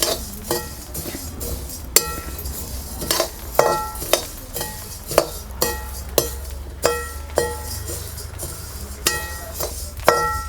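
Coriander seeds roast in oil in a pan, with a soft steady sizzle under repeated sharp clinks and scrapes of a spoon stirring against the metal at a regular rhythm.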